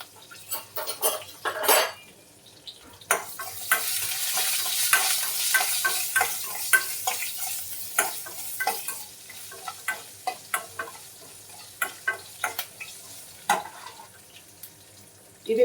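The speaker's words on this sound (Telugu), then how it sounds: "పచ్చిమిర్చి యాడ్ చేసిన తర్వాత ఇందులోకి వచ్చేసి గార్లిక్ కూడా యాడ్ చేయాలి. ఇవి ఫ్రై చేసుకోవాలి." Green chillies and garlic fry in a pan, crackling and sizzling up close while a spatula repeatedly stirs and knocks against the metal in an uneven rhythm.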